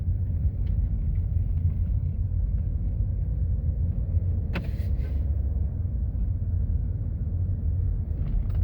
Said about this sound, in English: So I'm driving, let's say I'm driving, casually driving. I'll drive to the end of the street here.